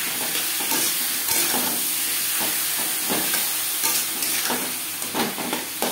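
Tomato paste, ground ginger and green chili paste being stirred in a hot frying pan for a fish curry, a loud, dense sizzle and hiss with scraping stirs running continuously throughout, up close.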